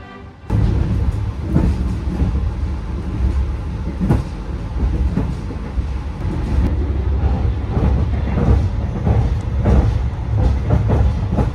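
The Argo Lawu executive train pulls out of Purwokerto station with a steady, close rumble of the carriage. Soft wheel thumps and clicks recur through the rolling noise, and no voices are heard.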